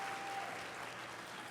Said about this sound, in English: Let's give all of these graduates a round of applause